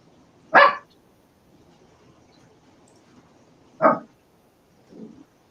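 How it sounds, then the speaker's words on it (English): Two sharp dog barks a few seconds apart, followed by a softer, muffled bark, each standing alone against a quiet background. "No treats for you for barking."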